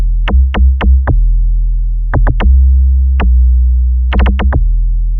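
Processed amapiano log drum, loud and thick, with punchy percussive attacks in quick syncopated bursts over a sustained, droning low bass bed that never drops out.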